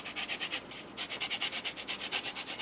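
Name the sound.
zesting a lemon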